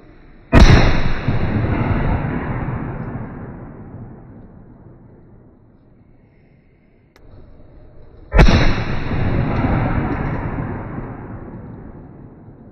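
Two loud Exploder 5 firecracker blasts several seconds apart, each a sharp bang followed by a long rumbling echo that slowly fades.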